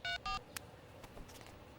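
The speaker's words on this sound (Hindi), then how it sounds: "रुको, मैं कॉल करके देखती हूँ।" Two quick electronic telephone keypad tones, near and clear, followed by a faint click and soft rustling in a quiet room.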